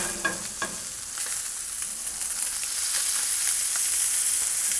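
Fish pan-roasting with butter and thyme sizzles in a steady, bright frying hiss, close and continuous, with a few small pops and stirring clicks early on.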